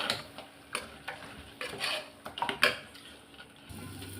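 Chicken is stirred into masala in a pan, giving a series of short scraping and clattering strokes with a faint sizzle beneath, close and moderately loud, with no talking.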